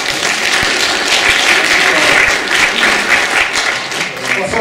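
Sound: audience applause

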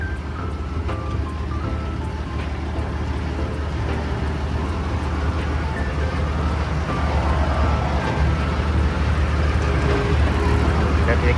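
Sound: Hitachi RT200W tire roller driving in first gear

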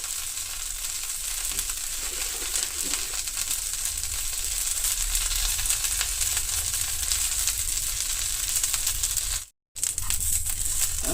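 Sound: frying mint, curry leaves and tamarind for chutney

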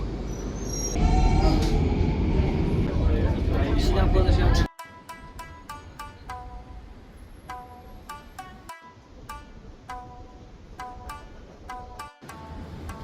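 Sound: Singapore subway station with train

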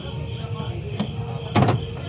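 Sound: car unlocking with a new flip key

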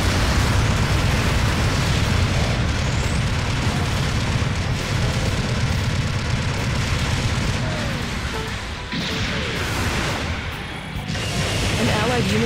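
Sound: explosion of a destroyed unit in Gundam Battle Operation 2 video game

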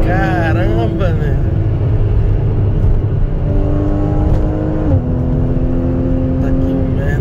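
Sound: Porsche sports car engine revving, accelerating

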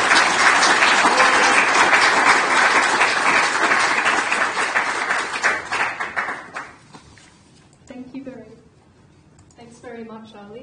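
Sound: audience applause welcoming a speaker

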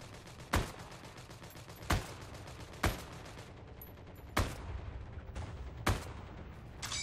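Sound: M1 Garand rifle gunfire in video game Heroes and Generals

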